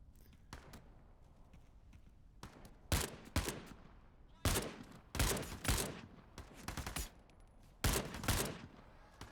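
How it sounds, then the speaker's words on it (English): Bursts of gunfire ring out in a video game raid shootout, a series of sharp, loud clustered volleys and rapid shots spaced irregularly over several seconds, with quieter gaps between them. "Fucking shooting us."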